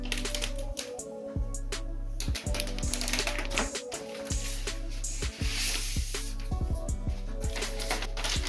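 A space grey phone box being unwrapped up close: continuous crinkling and rustling of plastic wrap with sharp clicks and tearing snaps, over a steady low hum.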